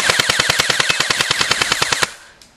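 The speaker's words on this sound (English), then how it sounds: "we're going to try the full auto again" A CAA 360-round high-capacity airsoft magazine feeding an airsoft gun on full auto with a 7.4 battery, a rapid, even burst of about twenty loud, close shots lasting two seconds, then stopping abruptly.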